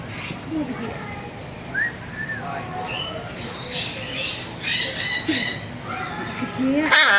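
A pet parrot squawks in loud, harsh calls that get busier toward the end, close by, over a constant household background with talking mixed in.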